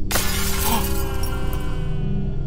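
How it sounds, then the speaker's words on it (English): A mirror shatters in the horror video game Visage, one sharp crash of breaking glass followed by tinkling shards and a lingering ringing tail, loud and alone. "Maybe we can go try smashing a bunch more mirrors."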